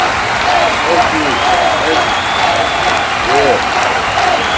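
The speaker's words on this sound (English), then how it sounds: "Clap it up for this motherfucking podcast." Steady applause for a podcast fills the clip at an even level, with a faint voice and tonal sweeps drifting underneath.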